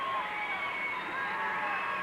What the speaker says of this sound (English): Heidi Lee is definitely the crowd favorite here.